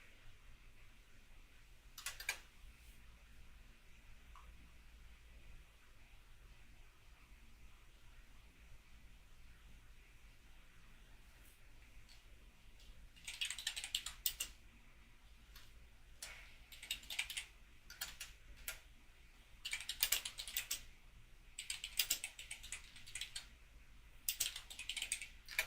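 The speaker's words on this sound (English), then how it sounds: "I can't type with this keyboard" Someone types on a computer keyboard in short bursts, the clicks close and crisp, with sparse keystrokes at first and then denser, faster runs of tapping.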